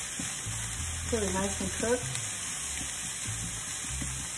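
Vegetables for stuffed peppers sizzle in a hot pan with olive oil, a steady close fry running under a brief spoken remark and a low hum.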